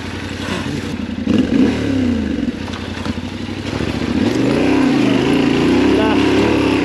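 A Yamaha Ténéré World Raid motorcycle ridden on enduro terrain, its engine close and continuous, the note rising and falling with throttle changes over steady wind and rumble.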